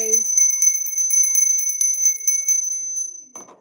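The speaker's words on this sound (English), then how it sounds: "I'm going to ring the bell on that" A small bell rung once with a bright, sustained metallic ring that decays slowly over a few seconds, loud and clear, followed by a brief voice at the very end.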